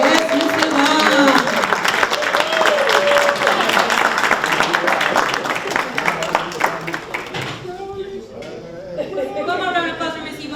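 Applause at a construction academy graduation ceremony fills the room with loud, dense clapping and crowd chatter, while a voice calls out over it; the clapping thins and fades in the last few seconds.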